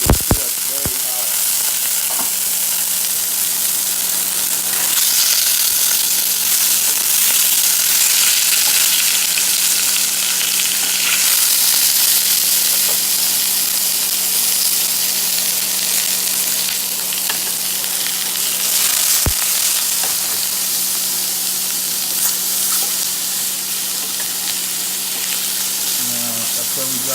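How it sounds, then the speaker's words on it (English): Shrimp frying in very hot oil, a dense continuous sizzle and crackle close up, steady and loud for the whole stretch with a few sharp pops and stirring sounds, no talking. "I'm gonna add the shrimp to it. You can see that's very hot."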